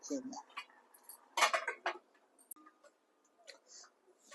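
Aloo matar curry is spooned from a pan into a bowl, with sparse close clinks and scrapes of a utensil against metal and dishware, some brief and faint, a few louder bursts in the middle.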